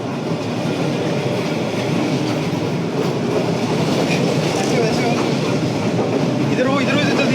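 A large train rolls past on a Hanoi street, a loud continuous rumble and clatter of wheels on rails that fills the whole stretch evenly.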